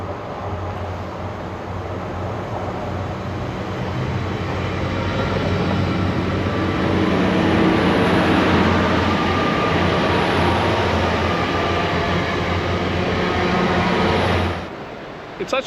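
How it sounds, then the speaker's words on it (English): A train rumbles past close by at Dawlish, near the sea, with a steady roar that swells in the middle, then cuts off abruptly near the end. "Oh look, there's a train in."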